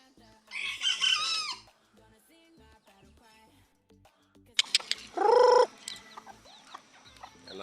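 A labuyo jungle fowl rooster crows twice, close and loud, each call a short strained cock-a-doodle-doo separated by a quiet stretch with faint clucks and background noise.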